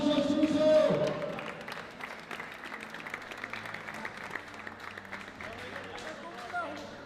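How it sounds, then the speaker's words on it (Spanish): A crowd at a national table football tournament applauds, sustained dense clapping that swells early and carries on steadily, with a voice speaking at the start. "Un aplauso, Suso."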